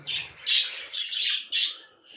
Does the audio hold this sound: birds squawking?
yes